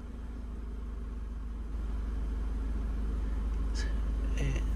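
A Toyota 2.5L engine idles during a transmission fluid check on a RAV4, Camry or Scion tC, a steady close low rumble with a couple of faint metallic clicks near the end.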